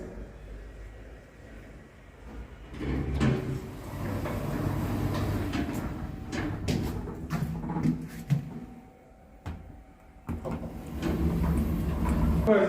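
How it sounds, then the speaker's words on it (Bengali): A hotel lift in Darjeeling arrives at the fifth floor with a low mechanical rumble, several clunks and clicks, and its doors sliding open, fairly close and with only faint background voices. "এই যে লিফ্ট চলে এসছে"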